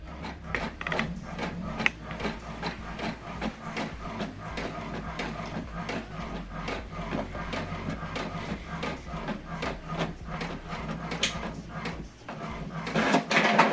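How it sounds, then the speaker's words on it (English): An HP printer runs a colour document sent from a phone, producing a steady run of close mechanical whirring and rapid clicking feed strokes, with no speech. "So we are printing this now from HP Smart App, and the document is printing."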